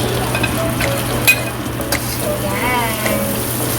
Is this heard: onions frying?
yes